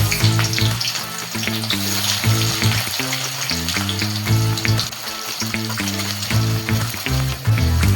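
Chopped onions frying in caramelized sugar for mutton curry, a loud, dense, continuous sizzle close by, with music playing steadily underneath.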